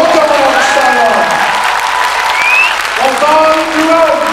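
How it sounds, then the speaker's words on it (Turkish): Audience applause at a film gala premiere in a shopping mall, loud dense clapping filling the space throughout, with voices talking over it at the start and end. "Kocaman alkışlarla."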